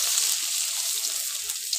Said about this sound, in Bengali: এবার এই তেলের মধ্যে দিয়ে দেব রসুনের কোয়াগুলো।